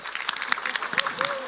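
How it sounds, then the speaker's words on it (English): An audience at a crypto summit in Dubai applauds, brisk irregular clapping with a few whoops and a voice speaking over it. "A big applause for all the stashers for yourself"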